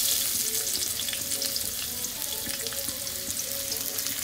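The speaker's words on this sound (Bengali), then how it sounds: "এবার ওই তেলে আমি, তেলটা গরম হয়ে গেছে, দিয়ে দেবো হচ্ছে পেঁয়াজ কুচি।" Chopped onion hits hot oil in a wok and sizzles steadily with a dense, even hiss. It stays close and constant throughout with no talking.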